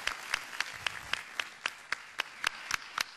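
An audience at a radio station launch night claps in a steady, rhythmic beat, each clap sharp and evenly spaced over a soft background wash of applause.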